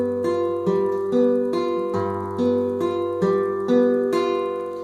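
A guitar plays a repeating arpeggio plucked with thumb, index and middle fingers, clear ringing notes in a steady rhythm over a sustained bass, close and moderately loud with no talking.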